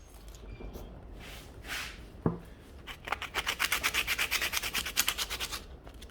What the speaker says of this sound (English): where it's smooth, I'm going to sandpaper it